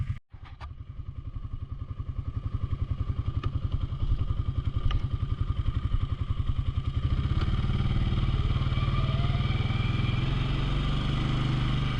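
A Can-Am Outlander 700 ATV engine idles with a steady, fast thumping pulse, then revs into a louder, smoother sustained drone partway through, close and continuous with no talking.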